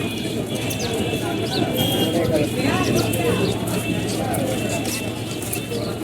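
Pigeons at a busy pigeon market coo and flutter close by amid a steady crowd hubbub, with someone talking over the birds throughout.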